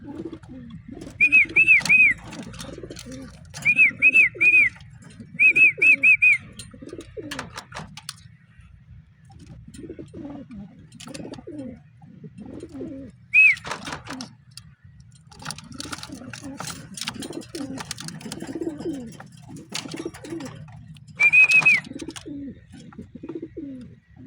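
Red Fox cross racing pigeons in a loft scuffle over a feed tray, giving close, repeated low coos in a steady pulsing rhythm, with bursts of sharp high chirps every few seconds.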